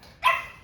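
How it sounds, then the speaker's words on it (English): A pet dog named Lola gives a single sharp bark indoors, close and moderately loud, and the sound fades quickly against a quiet room. "my dog is about to start barking"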